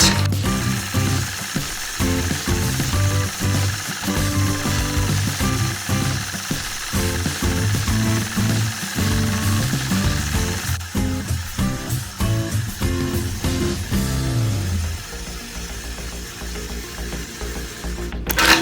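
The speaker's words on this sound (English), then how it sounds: "But watch here as I quilt this over-under pattern." A quilting machine stitching an over-under pattern along a quilt border: a continuous motor whir with rapid needle clatter and shifting pitch, easing quieter near the end, with no voices.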